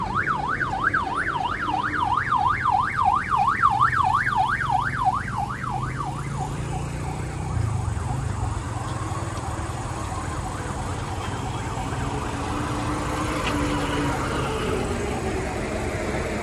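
An ambulance from Marola Kembar wails with a loud, rapidly alternating two-tone siren for the first six seconds at the scene of a Padang–Jakarta bus crash into a ravine at Sitinjau, then fades into steady road and crowd rumble.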